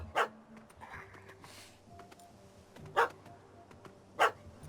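A dog barks in The Witcher 3: Hearts of Stone, three sharp separate barks spaced seconds apart over a quiet background, with faint ambient game sounds between them.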